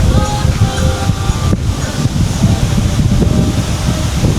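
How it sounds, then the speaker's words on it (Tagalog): Blustery wind on Boracay beach roars loudly across the microphone in steady gusts, with a faint murmur of background voices and possible surf beneath the rumble. "Lakas ng hangin."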